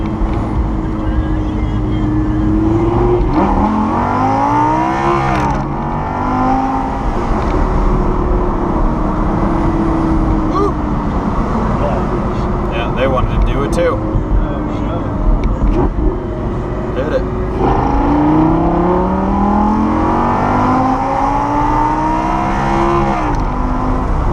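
Several cars pass close by on a road in a steady stream, engine and tire noise swelling and fading as each one goes past, with people talking over the traffic.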